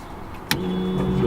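A BMW E92 fuel pump primes, a brief click followed by a steady electric whine that holds close and moderately loud for about a second.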